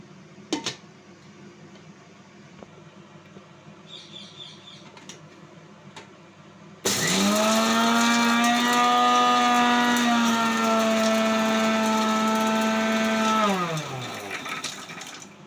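Mixer grinder whirring loudly and steadily for several seconds as it grinds ingredients for idly podi, preceded by faint kitchen clatter and ending as the motor winds down.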